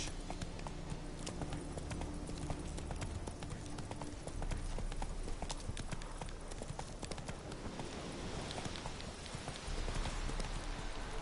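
Horse hooves clip-clopping on the ground in the video game The Witcher 3, a steady rapid trot of hoofbeats that continues throughout, with rain-like hiss behind and a faint voice.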